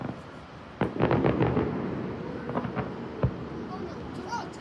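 Fireworks going off outside near a home and neighboring apartment blocks, a sudden loud burst followed by scattered crackles and a sharp bang, with people talking in the background.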